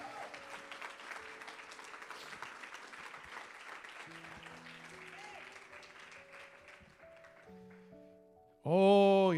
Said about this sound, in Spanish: Alguien que lo crea y le dé un aplauso al Señor.